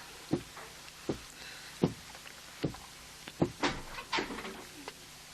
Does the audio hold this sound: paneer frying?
no